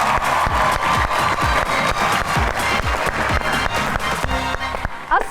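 A studio audience applauds loudly and steadily, welcoming guests Mohsin Gillani and Amna Shabbir onto a Pakistani talk show set. The dense clapping fills the room, and bits of talk and music rise near the end.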